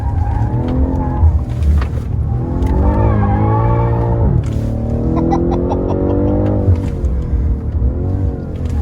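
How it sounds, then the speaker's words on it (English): A BMW M2 CS drifting on a performance-center track, engine droning loudly as tires squeal in long sustained howls that rise and fall, with faint voices in the cabin. "You see those front wheels cut or drifted?"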